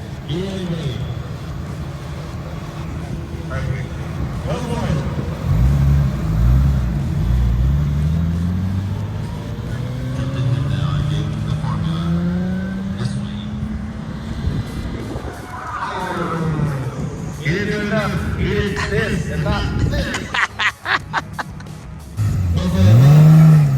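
A Nissan drift car launches and accelerates hard at a drift event, engine revving loud and rising with tire squeal and skidding, other engines around it and people talking and cheering.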